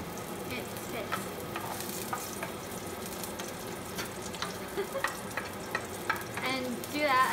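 Garlic fries in a pan, giving a continuous close sizzle broken by scraping and clinking as it is stirred. Stirring grows busier toward the end.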